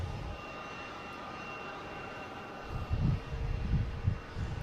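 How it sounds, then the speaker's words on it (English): A Delta Airbus A321 takes off from Boston Logan for Minneapolis, a faint engine hum rising into a louder, rumbling jet roar in the second half, distant and without talk. "Our next taking off is a Delta heading to Minneapolis"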